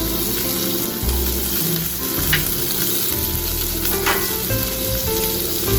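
Asparagus frying in oil in a pan, a steady close sizzle with crackling throughout, joined by faint running water from a sink.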